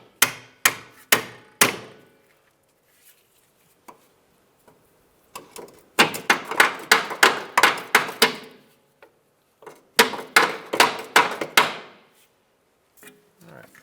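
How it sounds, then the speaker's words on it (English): A small hammer knocks the studs out of a rear upper control arm on a 2003-2011 Honda Element, heard as close, sharp metallic taps in quick bursts of several strikes separated by short pauses. "just going to take a small little hammer here and push our studs through"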